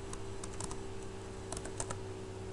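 A run of quick keystrokes on a computer keyboard while entering an mkdir command, clicking in small irregular bursts at close range with no speech.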